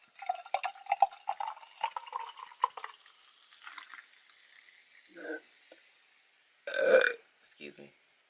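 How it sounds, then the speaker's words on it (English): A woman lets out a loud, deep burp after drinking soda, arriving after a stretch of her chatty talking and followed by a few softer sounds. "it's gonna be a lot of burping in this video because I'm drinking this"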